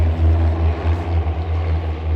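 MFI-15 Safari propeller aircraft passing overhead in trail formation at an air display, a steady loud droning engine hum that swells and dips slightly, with no voices.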